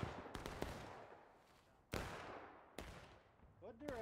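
Sharp musket shots in the War of Rights video game ring out one at a time, three or four spaced cracks at a moderate distance with a long decaying echo, plus a brief voice near the end.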